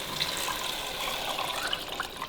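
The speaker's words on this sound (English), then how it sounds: "I'm going to add 4 cups of the water" Four cups of water pour steadily into a pot of red curry paste and turkey meat, a continuous splashing rush close by with no talk.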